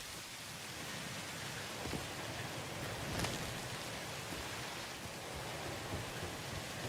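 Extreme-weather rainfall in the factory-building game Satisfactory, a steady hiss of heavy rain on surfaces with a soft low rumble, continuous and moderately quiet, no voices.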